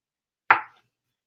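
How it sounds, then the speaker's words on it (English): A single knife chop strikes a cutting board while food is roughly chopped for coq au Riesling: one short close thud in otherwise silence. "So let's get to chopping these. It needs just a rough chop,"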